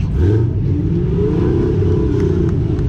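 A turbocharged Corvette or Camaro engine revs loud and close with a steady low roar and a rising whine, arriving at a charity car gathering.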